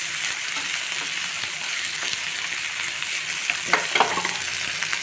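Roasted peanuts and gongura leaves being stirred in hot oil for a chutney, a steady close sizzle with scraping and stirring clicks, louder brief scrapes near the end, no talking.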